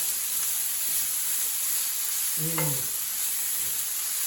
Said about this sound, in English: Let these onions open up. Saute those for about a minute.